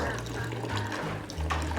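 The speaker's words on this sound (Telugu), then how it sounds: "చక్కగా నీళ్ళు పోసుకోవచ్చు" Water runs from a tap into a kitchen mixer jar, a steady close splashing stream lasting the whole moment with a low hum underneath.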